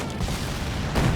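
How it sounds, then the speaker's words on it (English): A heavy mortar shell bursts in a Company of Heroes 2 battle, a dense rumbling boom with crackling gunfire spread over about a second, swelling louder near the end. "Maybe that was to a mortar shell actually, a heavy mortar right there."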